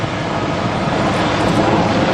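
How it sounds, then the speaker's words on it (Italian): A Super Puma helicopter performs a quick stop at the Jesolo European Airshow, a loud, steady, broadband engine and rotor roar that continues without a break. "Performing now a quick stop, controlled arrestment of the helicopter in the middle of the air."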